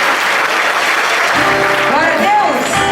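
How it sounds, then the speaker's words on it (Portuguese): A church congregation applauds during a Pentecostal worship service, a dense steady wash of clapping throughout, with a voice rising over it in the latter half. "Dê uma linda salva de palmas para Jesus!"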